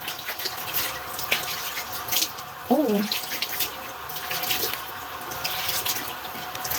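Water runs steadily from a tap into a sink while something is rinsed off, with a continuous close hiss and splash, and a brief voiced exclamation partway through.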